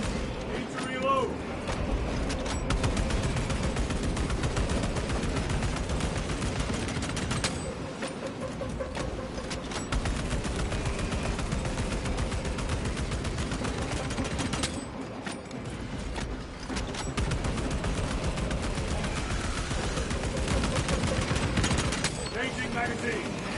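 Sustained battle noise from Space Marine II, dense and loud throughout with heavy gunfire, booming impacts and mechanical clatter, brief dips in intensity, and game voices talking over the din.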